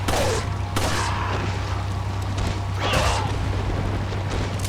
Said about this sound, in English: Now you can just shoot everyone a couple of times, and it should be fine.